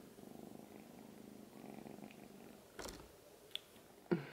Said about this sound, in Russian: Мурлык. Замурлык.